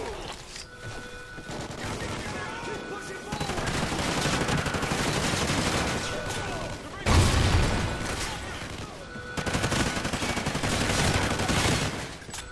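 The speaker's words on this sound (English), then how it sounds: "Who's shooting me?" Rapid bursts of gunfire from a Call of Duty: Ghosts multiplayer match, loud and sustained with overlapping shots and explosive booms, with a player talking over the shooting.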